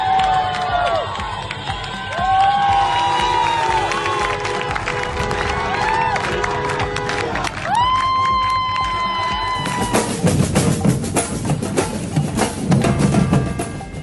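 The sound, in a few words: women clapping in a street protest at night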